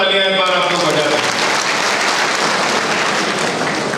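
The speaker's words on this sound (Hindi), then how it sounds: "इनके लिए भी जोरदार तालियां एक बार आप लोग बजा दें" Loud, dense applause from a crowd at an election campaign rally in Delhi's Chhatarpur, swelling in right after an amplified voice and holding steady and close throughout.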